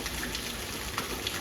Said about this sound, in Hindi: दोस्तों ये पानी 2 घंटे से गिर रहा है, 2 घंटे से ये पानी लगातार इतना